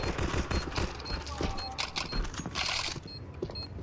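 Rapid gunfire bursts and rifle shots ring out in a Counter-Strike 2 match at a major tournament. The shots are dense and layered, with excited commentary running underneath.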